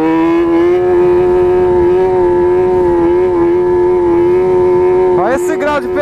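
A Yamaha XJ6 motorcycle holds a loud, steady high rev during a wheelie on a street, engine droning close and continuous before the pitch swings and stutters near the end.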